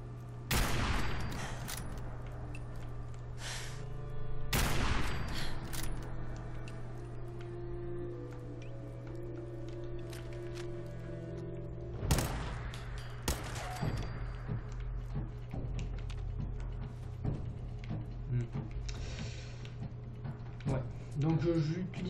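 Gunfire from Fallout 4, with 10 mm pistols and double-barrel shotguns in use, cracks out in several loud, separate bursts spread across the clip over a steady game background hum.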